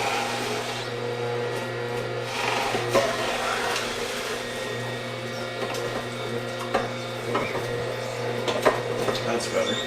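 A juicer grinding celery stalks gives a steady, loud motorised whir with irregular crunching and rattling bursts throughout.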